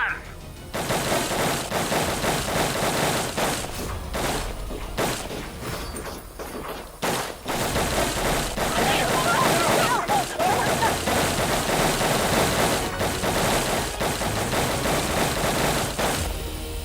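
Sustained bursts of rapid gunfire from several weapons fill the scene at close range, with a few sharp pauses and thuds, in a staged TV crime-drama shootout.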